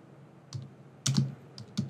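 Keys on a computer keyboard clack in three small clusters of close, sharp strokes, separated by short pauses over quiet room tone, with no voices.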